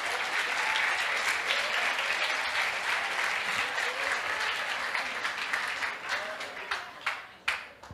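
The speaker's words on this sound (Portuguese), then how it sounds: "pode aplaudir o Senhor." A church congregation breaks into loud, sustained applause that rolls on for several seconds before thinning into a few scattered claps, with some voices mixed in.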